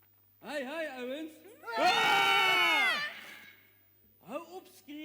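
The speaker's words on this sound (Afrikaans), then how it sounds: "Hou op skree." People scream in loud, sustained, overlapping cries for about a second, bracketed by shorter high-pitched shrieks before and after, at close range.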